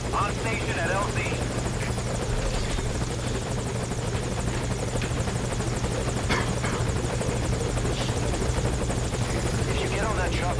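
Video game helicopter from Metal Gear Solid V, a steady loud rotor thrum and engine drone held throughout at a landing zone, with voices talking over it.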